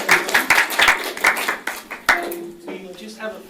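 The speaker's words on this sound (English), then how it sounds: "Give Bill a round of applause" An audience in a meeting room claps in a short burst of applause lasting a few seconds, with a voice speaking over and after it.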